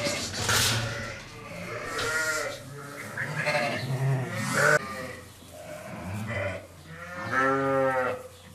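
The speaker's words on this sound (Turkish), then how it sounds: "Bu bölmede 26 tane koyun var." Sheep in a barn pen of twenty-six animals bleat repeatedly and loudly at close range, overlapping calls in a steady chorus with no talk.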